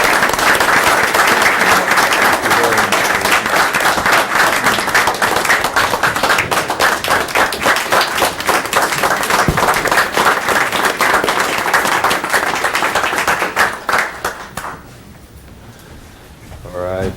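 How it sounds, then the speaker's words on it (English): Audience at a city council meeting giving a loud, sustained round of applause, dense clapping with crowd noise and some voices mixed in, fading out near the end. "Can we give another round of applause?"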